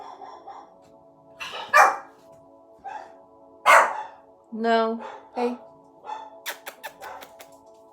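Several dogs bark in bursts and a few yelps, set off by a delivery arriving, while someone speaks over them and tells them to stop; barks come in clusters, fairly close and loud against the talk.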